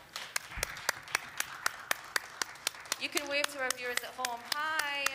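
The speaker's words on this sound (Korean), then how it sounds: "여러분 모두 이 발표자분들에게 아주 큰 박수 보내주시기 바랍니다" A talk-show audience applauds the presenters with sharp, evenly spaced claps in a steady rhythm, and voices join in over the clapping during the second half.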